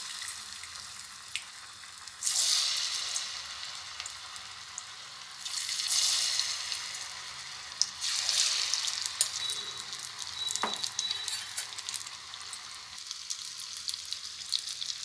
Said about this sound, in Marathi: आता आपलं हे तेल तापलेलं आहे, आपण त्याच्यात एक एक करून भजी सोडूयात.